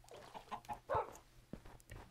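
A chicken in the Minecraft video game clucks in a run of short, quiet bursts, a few soft clucks followed by a slightly louder one, with faint background game sounds.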